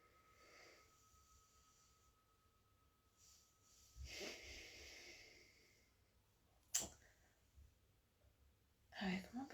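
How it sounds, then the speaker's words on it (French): A small dog snores softly nearby in a quiet room during a meditation session, giving faint, intermittent snorting breaths with a couple of sharper snuffles. "Avec mon petit chien qui ronfle à côté."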